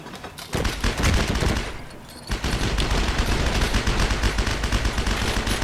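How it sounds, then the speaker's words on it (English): An MG42 machine gun firing in the shooter game Heroes & Generals, a rapid ripping burst after a short quiet start, a brief dip, then a long continuous stream of fire, loud and close. "Oh, MG42."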